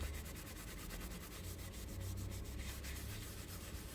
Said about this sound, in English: so we're just going to grab one clean tissue and just buff off where the embossing is